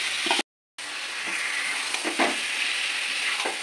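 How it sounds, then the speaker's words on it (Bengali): Yogurt-marinated chicken fries in a pan with a loud, steady close sizzle, briefly cut out near the start, then continuing with faint stirring scrapes. "ম্যারিনেশন করা চিকেনটা আমি দিয়ে দেবো"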